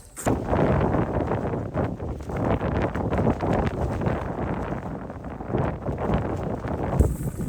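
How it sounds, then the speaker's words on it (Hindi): Strong, stormy wind gusts over the mountain campsite at Dagri Bangla near Abbottabad, a loud, constant roar buffeting the microphone with no letup. "इस टाइम तेज़ हवा चल रही है, इतनी तूफानी हवा"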